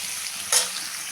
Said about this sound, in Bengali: আলুটাকেও একটু ভেজে নেব।